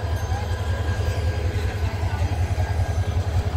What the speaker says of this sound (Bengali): আর এই যে লোকোমোটিভটা দেখছেন,